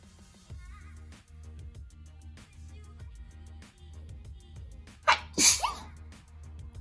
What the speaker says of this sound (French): je vais faire atchoum